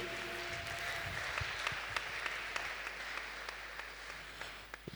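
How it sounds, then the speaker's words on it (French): A church congregation applauds after the Bible reading, a sustained wash of clapping from many hands that continues evenly throughout, with a few louder individual claps standing out. "est-ce que nous pouvons acclamer pour la lecture de la parole de Dieu?"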